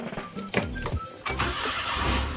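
A car engine cranks with a brief whirring starter, then catches and settles into a steady running rumble, in hot weather, in a car with a replaced alternator.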